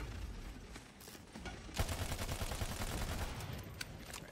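Gunfire in the Battleborn video game, a fairly quiet, dense rattle of rapid shots over busy game background noise, with no talking.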